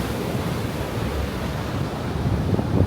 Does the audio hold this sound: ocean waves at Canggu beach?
yes